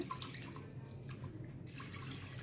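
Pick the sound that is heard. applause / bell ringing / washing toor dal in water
washing toor dal in water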